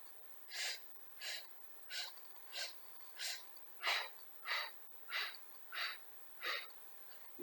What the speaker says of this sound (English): let's get ready to do our 5 inhales and 5 exhales, staccatically breathing